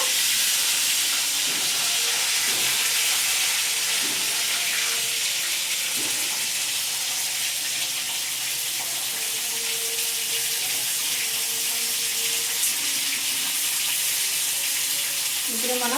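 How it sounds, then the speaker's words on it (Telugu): Whole stuffed brinjals dropped into hot oil in a kadai: a loud, unbroken hiss of frying that lasts throughout, with faint tonal sounds in the background. "ఇప్పుడు మనము వంకాయలు మాత్రము ఇందులో ఆయిల్ ఏడెక్కిన ఆయిల్లో వంకాయ అనేది వేసేద్దాము"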